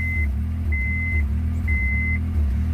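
A Honda Accord engine rumbles unevenly up close, running rough, with a steady low drone and three repeated electronic beeps sounding over it.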